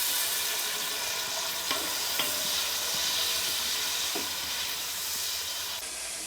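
Tomatoes fry with browned onions for Bannu beef pulao, a loud continuous hissing sizzle with steam and a few faint stirring scrapes, held steady throughout.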